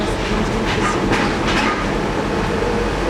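Steady rumble and rattle of a train in motion, heard from inside a passenger car on an underground stretch in England, with a continuous low roar and faint clickety-clack throughout, no voices.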